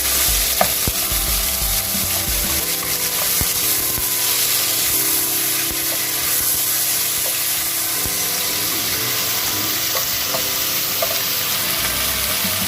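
Meat bhuna curry with sliced onions sizzling in a pan while being stirred, a loud continuous frying hiss with scraping and clattering of the spoon throughout, no talking.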